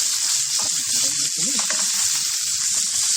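A reverse-seared steak is basted in a hot pan, giving a loud, steady sizzle that runs unbroken and close throughout.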